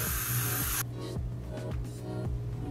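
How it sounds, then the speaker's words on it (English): A short, loud hiss of CHI hair holding spray sprays onto a braid, one burst lasting under a second, then giving way to quiet handling sounds. "I'm using a little bit of this chi holding spray."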